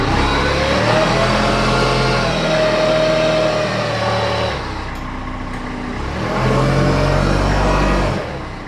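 A forklift engine drives a homemade hydraulic steel thread roller, giving a loud steady engine drone with a faint whine that eases off midway and then builds back up.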